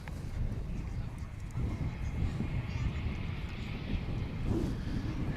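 Volaris airliner arriving from Guadalajara at Dallas/Fort Worth Airport, a low rumbling engine roar rising slowly over steady wind noise.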